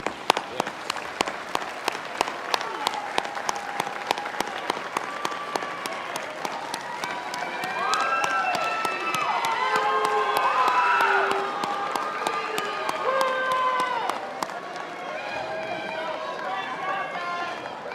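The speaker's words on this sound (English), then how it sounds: "let's give a round of applause to those who've been a big part of this journey with you." Graduates and guests at a 2023 spring commencement applaud families and friends; crisp, rhythmic clapping opens, then swells into loud crowd cheering and whooping in the middle before settling back into steady applause.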